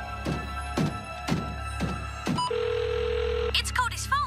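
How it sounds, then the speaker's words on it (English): A cartoon telephone rings in a series of four short, evenly spaced rings, followed by a steady electronic tone and some brief chirpy sounds, fairly close and clear with no talking. "It's Cody's phone. Leave a message"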